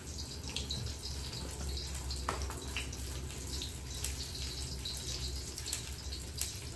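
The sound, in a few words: pouring leftover poppy-mustard paste rinse water into pan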